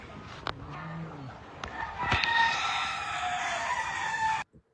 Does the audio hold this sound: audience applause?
no